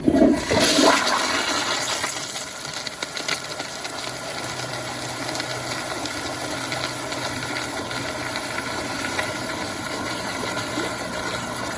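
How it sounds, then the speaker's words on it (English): A Kohler Sandbar Wellcomme toilet flushes powerfully, opening with a loud close whoosh of rushing water that settles into a sustained, steady roar of refilling flow, with no talking. "here's another flush like this"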